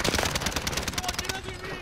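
Rapid automatic gunfire in Call of Duty: Modern Warfare, a dense string of loud shots rattling close by, then tapering off as a voice talks over it.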